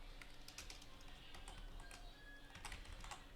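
Quiet, rapid keystrokes on a computer keyboard as a command is typed into a Linux terminal, an irregular patter of light clicks over a steady background hum, no voices.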